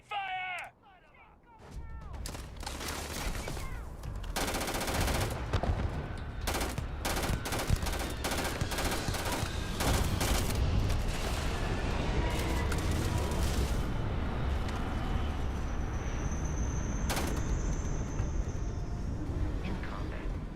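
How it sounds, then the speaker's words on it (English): Gunfire in the video game Starfield: dense, continuous bursts of automatic weapon fire and heavy impacts in a loud combat scene, sustained for the whole stretch after a brief quiet opening with a short shout. "Open fire!"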